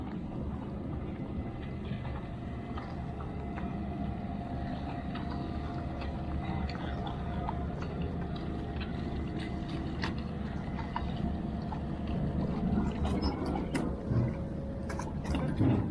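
Steady low boat engine drone with water wash and rumble on the Mekong River, continuous throughout, with faint clatter and knocks near the end.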